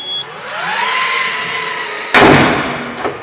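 A motor whirs as a faulty Tesla power trunk lid lowers, then a single heavy thump lands hard, followed by a brief rattle.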